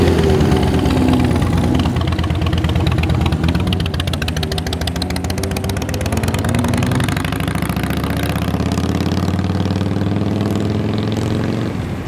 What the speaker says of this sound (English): Comes one Tough XC and a bike behind it